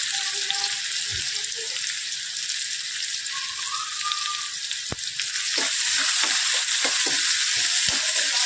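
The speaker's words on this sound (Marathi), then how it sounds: "आता इथे मी 1 कांदा मोठा चिरून घेतलेला आहे। तो छानपैकी असं नरम कलर चेंज करेपर्यंत परतून घ्यायचा आहे।" Chopped onion sautéing in a pan for a cluster bean curry, a steady bright sizzle throughout, with a few faint clinks and stirring knocks near the end, no speech.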